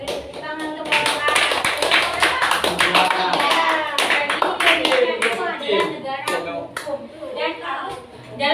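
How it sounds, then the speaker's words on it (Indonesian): Hand clapping in a classroom as a teacher applauds a student, sharp, rapid claps in an irregular run, near and fairly loud, with people talking over and between the claps. "Saya tepuk tangan untuk Bapak."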